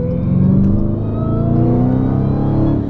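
A widebody Dodge Hellcat drives through New York City traffic with a loud, steady supercharger whine riding over a deep engine rumble as it revs and pulls, close and continuous throughout.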